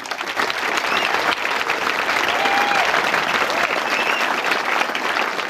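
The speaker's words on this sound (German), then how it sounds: "Wie klingt denn hier ein Applaus, wenn das so, wenn der Vortrag schon ziemlich gut war?" A science slam audience claps steadily in a hall, dense moderate applause sustained evenly throughout with faint voices and whoops mixed into the crowd.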